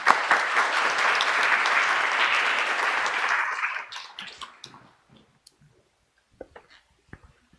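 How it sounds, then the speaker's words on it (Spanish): Loud, sustained applause from an audience at a university global dialogue event fills the first few seconds, then fades into scattered claps and quiet. "Lo recibimos con fuertes aplausos."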